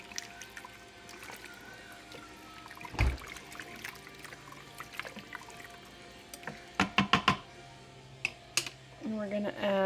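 A spoon stirs mustard and ketchup into bacon cheeseburger soup inside an Instant Pot, making scattered clinks and scrapes against the metal pot, with a faint voice in the background.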